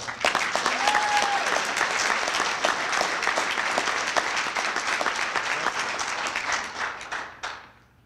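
Loud, sustained applause from a crowd at a high school football banquet, dense clapping that holds steady and then fades out near the end.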